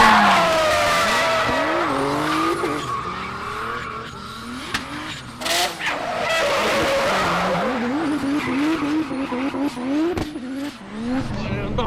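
A 700 hp BMW M4 race car skids on a track amid tire smoke, its engine revving hard in rising and falling sweeps over loud tire squeal, close by and sustained.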